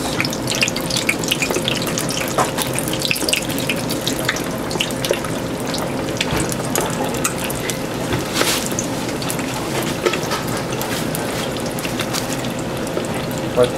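Langoustine papillotes deep frying in a fryer give a continuous dense sizzle and bubbling hiss, steady and close for the whole stretch, with occasional small pops.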